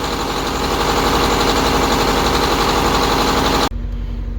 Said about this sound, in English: Power steering's whining on it.